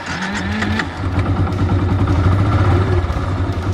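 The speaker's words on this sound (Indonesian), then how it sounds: "Maka motor langsung menyala dan indikator RPM mesin akan menyala" A clutch-type motorcycle engine fires up with the starter button, a brief rising crank sound leading into a close, loud, steady idle with rhythmic pulsing.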